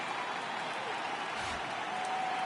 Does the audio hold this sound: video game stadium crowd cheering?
yes